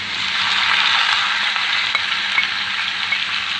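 Chopped onions frying in butter in a pan, giving a steady, dense sizzle that stays loud and even throughout, close up with faint stirring clicks and no talking.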